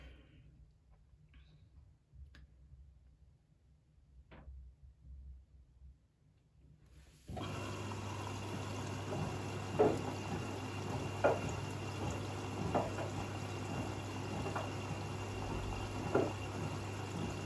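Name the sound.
Siemens washing machine filling with water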